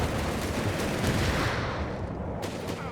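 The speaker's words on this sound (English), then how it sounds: "Something exploded there. I'm not sure it might be a mine." Dense, continuous battle noise from Company of Heroes 3, with gunfire and a blast that may be a mine, filling the whole stretch loudly with no clear single boom standing apart.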